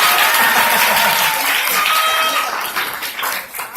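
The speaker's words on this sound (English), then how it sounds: "Round of applause." Audience at a comic con, Liberty City Anime Con, claps in a loud burst that gradually thins and fades over a few seconds, with some crowd voices mixed in.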